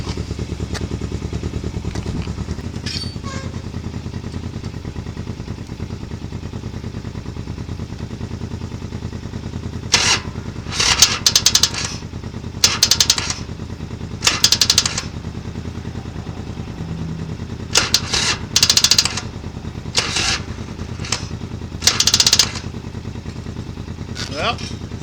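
A Harley motorcycle engine cranks repeatedly without starting, with a steady low rumble throughout and several short bursts of cranking that stop and restart, loud and close.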